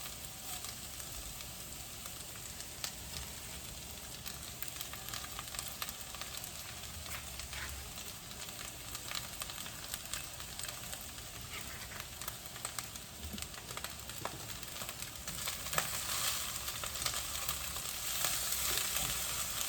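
Chopped celery and cabbage sizzle and crackle steadily in a hot pan while chow mein is cooked, a continuous moderately quiet fry with no talking.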